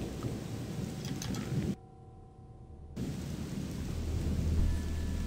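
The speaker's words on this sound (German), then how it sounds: "Jetzt regnet es auch noch." Continuous rain hiss with low rumbling thunder in the video game Odyssee – Im Auftrag des Königs, a Gothic mod, briefly cutting to near silence before the downpour resumes; no one speaks.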